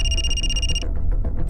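A telephone rings loudly and steadily in an indoor crime drama scene, then cuts off partway through, leaving a low room hum and faint rustling.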